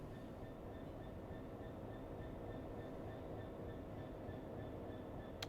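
A Class 66 diesel locomotive passing in the train simulator game Train Sim World 3, heard as a steady, low rumbling drone with faint regular ticking, continuous and fairly distant, with no talking.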